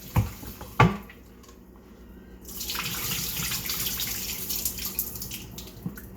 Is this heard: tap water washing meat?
yes